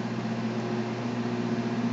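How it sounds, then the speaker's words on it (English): A microwave oven runs on its popcorn setting, giving a steady, close, even hum with a constant low drone and no voices, unbroken from start to end. "the microwave always kind of makes noises"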